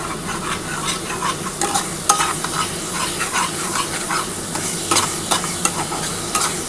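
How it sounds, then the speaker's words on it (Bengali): Masala with Kashmiri chilli powder, part of a cashew and yogurt paste for a wedding-style doi katla fish curry, is stirred and fried in a pan: a steady close sizzle with repeated scraping strokes of the spoon throughout. "এবার খুব ভালো করে মশলাটা কষাতে হবে।"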